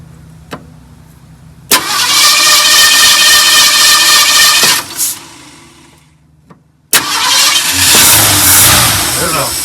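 A 1972 Ford F100 engine cranks in two loud, close bursts of rapid churning with a short lull between them, the second burst sounding rougher as the engine tries to start.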